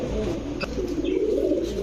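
Breeding pigeons, fancy domestic breeds kept for eggs and chicks, give a low, soft, rolling coo close by, steady over a faint background murmur.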